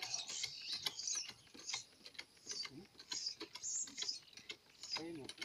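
A hand sprayer pumps in a quick, uneven rhythm while spraying cows against ticks, giving repeated close mechanical clicks and squeaks with hissing bursts of spray, and no voices.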